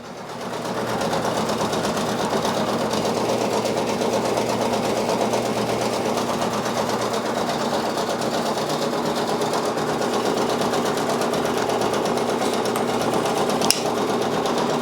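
A Brother Persona PRS 100 embroidery machine stitches steadily, giving a continuous rapid mechanical whir with a fine rhythmic buzz that stays even and close throughout, with a brief click near the end.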